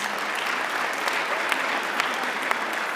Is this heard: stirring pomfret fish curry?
no